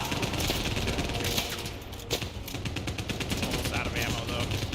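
Rapid gunfire in the Crossfire X story mode, dense bursts of automatic shots crackling steadily for several seconds, fairly close and loud, with a voice speaking over it.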